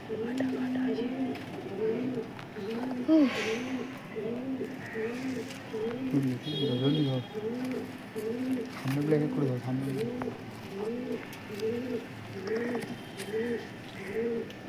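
Madrasi and Star Kalanka pigeons coo close by in a steady, rhythmic series of soft, throaty rolling calls, with overlapping birds repeating the coos continuously throughout.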